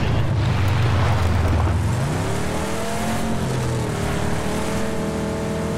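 Loud car engine in a video game, a low drone that climbs into a rising, revving whine partway through and holds steady at high pitch, with no talking.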